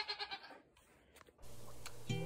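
A goat bleats close by in a short burst of wavering cries, followed by quieter rustling and low background hum.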